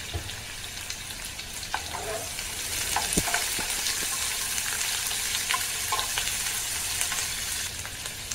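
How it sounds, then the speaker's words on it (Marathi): Finely chopped onion frying in hot oil, a steady bright sizzle and crackle throughout with occasional stirring clicks, close and continuous with no talking. "तो आपण तेलामध्ये टाकून लालसर कलर पण भाजून घ्यायचा आहे"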